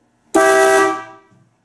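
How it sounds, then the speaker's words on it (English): Two-tone horns on a Buick Roadmaster sound together in one loud, close blast lasting under a second, then quickly die away. "here we are with both horns functioning at the same time"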